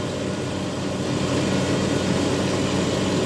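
A 1966 KI-968 generator runs under electrical load of nearly 100 amps on a test stand, giving a loud, steady, droning engine hum with no pauses.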